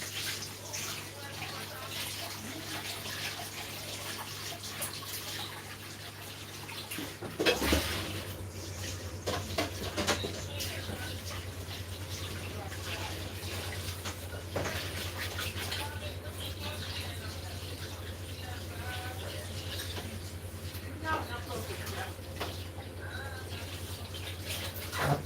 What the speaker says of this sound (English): soak this in some hot water